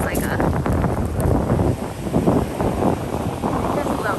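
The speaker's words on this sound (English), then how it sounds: "Oh, it's windy. So windy." Wind gusting steadily across an open beach, a continuous broadband roar buffeting the microphone throughout with slight rises and dips.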